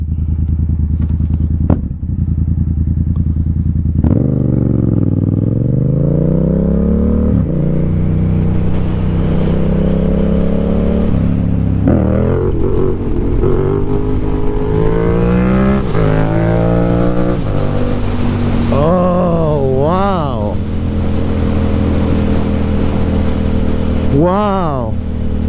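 A 2020 motorcycle engine loud and close, holding steady and then climbing through rising revs with gear changes during a wheelie ride, with sharp rev sweeps near the end; a rider talks over it.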